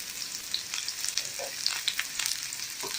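Shallots fry in sesame oil with a quiet, crackling sizzle, small pops and spits scattered over a faint steady hiss, heard close up without speech.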